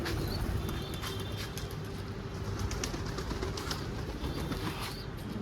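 Pigeons in a coop give soft, steady cooing and rustling over a continuous low background, faint and close, with no talking.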